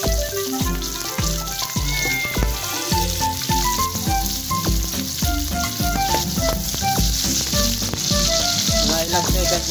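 Onion sautéing in a hot pan for pinakbet, a loud, steady crackling sizzle with continuous spattering and a few utensil clinks throughout.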